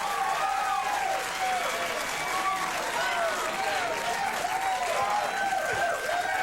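A late-night television studio audience applauds and cheers continuously, a dense wash of clapping and whooping with voices mixed in, steady and loud throughout.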